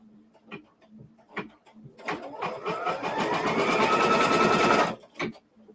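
A sewing machine stitches down a quilt block, running in one steady burst of close, loud whirring for about three seconds, framed by a few short clicks and handling noises before and after.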